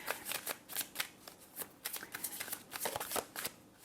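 Oracle cards being shuffled by hand, a quick run of crisp riffling bursts close by with brief pauses between them, and no talking.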